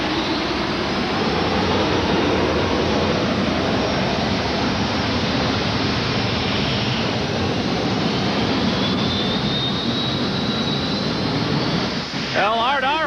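A twin-engined Green Monster modified pulling tractor in the 7,200-pound class runs at full throttle, a dense continuous roar that holds steady and loud throughout, with an announcer talking over it.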